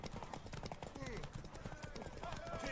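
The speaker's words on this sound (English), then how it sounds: "Want that horse, don't ya?" Clip-clop of a horse's hooves in The Witcher 3 video game, quick rhythmic thuds from a galloping horse mixed with game sounds and a horse whinny, under voices talking.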